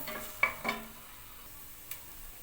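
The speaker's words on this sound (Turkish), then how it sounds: "Soğanım kavrulsun." Onion sautéing in a pan at home, a faint, low sizzle broken by a couple of sharp utensil clinks and scrapes, quiet and close, with no talk.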